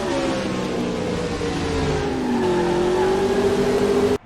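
A 3,400-pound stock car engine holds a steady, loud droning tone that slowly dips and rises in pitch, as if revving, before cutting off abruptly at the end.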